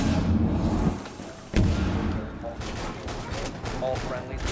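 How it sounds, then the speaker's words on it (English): Shotgun fire in the tactical shooter Rainbow Six Siege, a loud dense stretch of booming shots and combat noise with sharp blasts around the start and middle, with someone talking over it. "This fucking shotgun sucks fucking dick."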